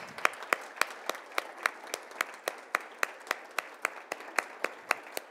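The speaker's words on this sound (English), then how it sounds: "Let's give another round of applause to our 5 recipients." Applause for award recipients at a Hispanic Heritage Month celebration, heard as sharp, evenly spaced claps from a small group at a moderate distance, fairly quiet and steady throughout.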